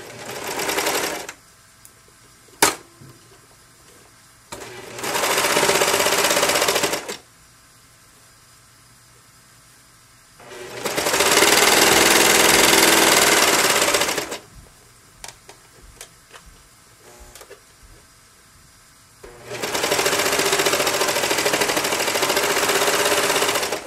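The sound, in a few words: serger sewing the strap of a scrub cap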